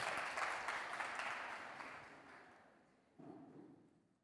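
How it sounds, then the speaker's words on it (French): Audience applause for a young contestant at a high-school talent show, a dense wash of clapping that fades steadily over several seconds before a short, fainter burst returns near the end. "applaudissements pour lui,"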